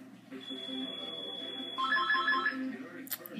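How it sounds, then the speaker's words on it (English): A telephone rings with a steady electronic tone and a warbling trill, fairly faint and alone in a quiet room. "the phone is ringing"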